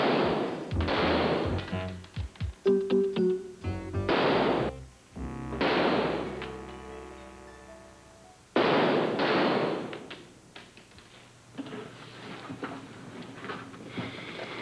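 Gunfire from a firing squad in a 1988 soap opera scene arrives as a few loud, booming volleys with long ringing tails, separated by quieter gaps.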